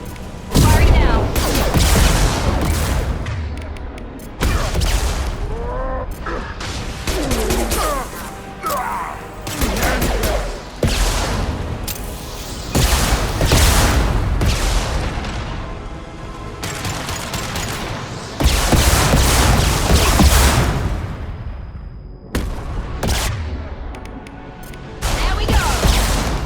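Sustained gunfire in the sci-fi shooter Mass Effect Legendary Edition: loud, dense bursts and booming shots with brief pauses. Voices speak over the combat.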